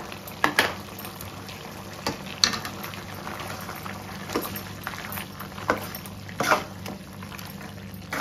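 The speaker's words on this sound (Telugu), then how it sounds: "ఇది కొంచెం వేయించుకోవాలా" Green masala for chicken curry bubbles and sizzles softly and steadily in a pan, with occasional sharp clicks and scrapes of a utensil against the pan.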